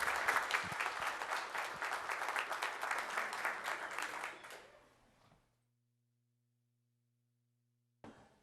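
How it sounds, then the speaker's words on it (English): A round of applause at a city council proclamation, a room full of clapping that holds steady for several seconds then tapers off into near silence before a short sound returns at the end. "One more round of applause for these wonderful gentlemen."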